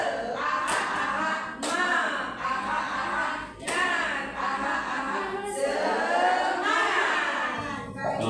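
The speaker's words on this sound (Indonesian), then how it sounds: "tepuk tangan buat kita semua, buat Bu Sabrina" A group of people at a school workshop session clap their hands together in several bursts of quick, rhythmic clapping, fairly close and loud, with voices mixed in.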